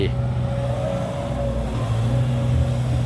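A Sumitomo SH130-6 excavator's Isuzu 4JJ1X common-rail turbo diesel drones at a steady low idle, a continuous rumbling hum heard up close, with someone talking over it.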